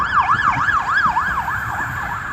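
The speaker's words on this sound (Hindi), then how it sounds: "और एक एम्बुलेंस जा रही है" An ambulance siren wails in a repeating up-and-down cycle as it passes along a busy downtown street in Warsaw, loud and close over a low rumble of traffic.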